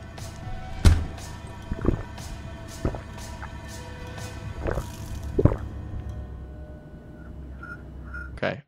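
Water dripping in a house in the horror video game Fears to Fathom: Home Alone: clear drops land roughly once a second, close and fairly loud, over a steady low ambient hum.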